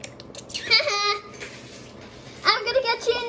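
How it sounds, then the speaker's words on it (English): Children shout and babble playfully during a splash fight in a backyard pool party, with bursts of splashing water mixed in among their excited voices. "Have a splash fight, of course."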